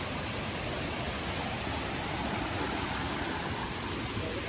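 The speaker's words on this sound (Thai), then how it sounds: "แล้วตรงนี้มันก็จะเป็นน้ำตกนะครับทุกคน" A waterfall roars in a forest, a dense, constant broadband rush of falling water, loud and unbroken throughout.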